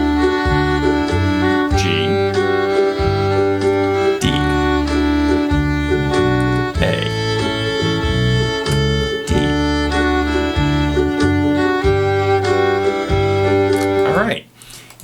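Fiddle playing a song over a full, busy backing track with bass and percussion, bowed melody lines weaving through steadily before the music cuts off abruptly at the end.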